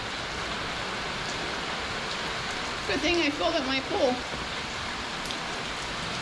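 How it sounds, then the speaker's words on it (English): Steady rain falls on a rainy day in the Orlando, Florida area near Walt Disney World, a dense, even hiss close by, while someone briefly speaks over it. "Let's watch and listen to it rain."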